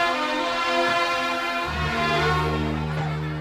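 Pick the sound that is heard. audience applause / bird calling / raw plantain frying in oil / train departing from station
train departing from station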